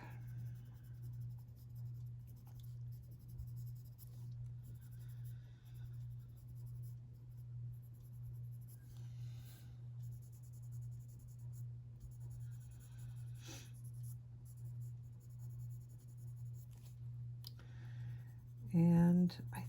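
Colored pencils in beige sienna scratching across paper while coloring a Mrs Grim Reaper picture, faint steady strokes with occasional light clicks under a constant low hum.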